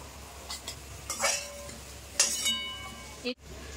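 Fried onion slices for a boal fish kalia are stirred and scooped out of hot oil with a metal utensil, bringing short scraping and clinking sounds over a faint sizzle, close up and without talk.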